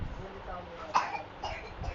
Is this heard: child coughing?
yes